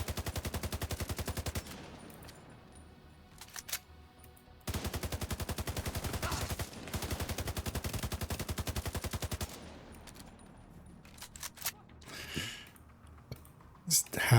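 Rapid automatic gunfire from a video game in long sustained bursts with short gaps between them, loud and close, followed by scattered quieter sounds near the end.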